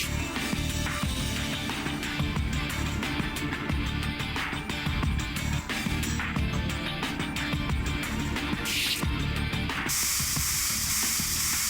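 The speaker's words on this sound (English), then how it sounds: "I just want to spray everything." Spraying in the video game Trauma Team, a long run of hissy, sizzling spray bursts over busy game sounds, ending in a steadier bright hiss.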